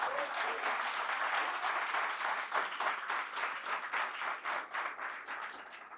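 A church congregation applauds at a Sunday service, a dense, sustained wash of many hands clapping that fills the room and tapers slightly toward the end.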